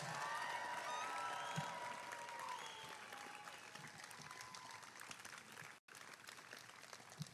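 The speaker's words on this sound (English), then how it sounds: "Audience, please join me in one more round of applause for all of these candidates" Audience at a spring commencement ceremony applauding the graduating candidates, a sustained wash of clapping across a large hall that slowly eases in intensity, with a brief dropout near the end.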